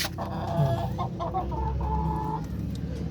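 White Kelso fighting cocks cluck and call nearby in a short burst of overlapping low clucks and a drawn-out crowing note, with a steady background hum.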